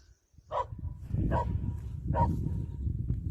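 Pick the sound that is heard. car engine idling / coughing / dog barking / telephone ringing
dog barking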